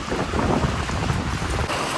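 Heavy rain pours down amid gusting wind, a dense, roaring wash of noise that stays loud and constant throughout.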